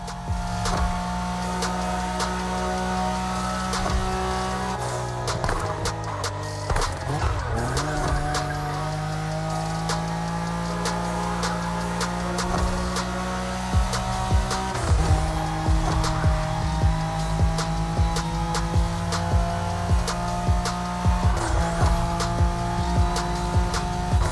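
Nissan Skyline racing in The Crew Motorfest, with steady engine drone, shifting revs and sharp tire squeals through the turns, loud and continuous.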